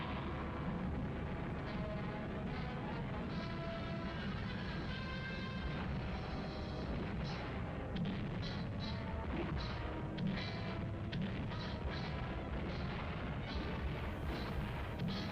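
Second World War bombing and artillery explosions, a dense, continuous rumble of overlapping blasts and crashes, distant and muffled with a dull, old-recording quality.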